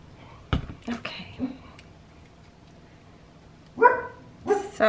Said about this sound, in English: Sophie, don't you start barking.